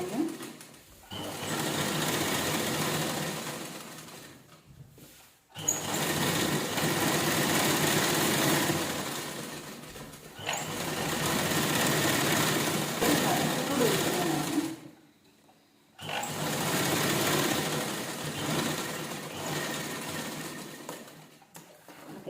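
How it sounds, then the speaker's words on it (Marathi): Electric sewing machine stitching the side seam of a table cover made from leftover blouse fabric pieces, running in three long continuous whirring bursts with brief pauses between them, close and steady. "साईडला पण आपण शिलाई करून घेऊया"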